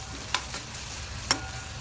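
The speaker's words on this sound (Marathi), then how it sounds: "मीठ टाकून द्यायचं थोडं आणि चांगलं असं मिक्स करून घ्यायचं." Dill leaf bhaji being stirred with salt in a pan, a soft sizzle under a few distinct scraping clicks of the spoon against the metal.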